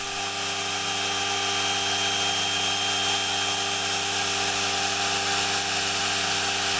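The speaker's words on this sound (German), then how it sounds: "Und die fräst Thorsten jetzt aus. Dieses Mal vollautomatisch" An automatic milling machine cuts eyeglass temples 3.9 mm thick from buffalo horn, giving a continuous, loud, close high-pitched whine with a steady mechanical hum and no talk.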